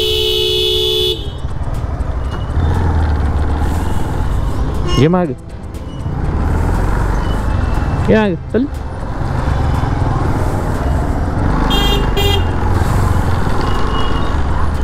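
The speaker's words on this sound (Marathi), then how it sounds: "तिकडं पण ट्रॅफिक आहे." Busy road traffic near Shirdi rumbles steadily while car horns honk in a few sharp blasts, one longer toot and a couple of shorter ones; people talk over the noise.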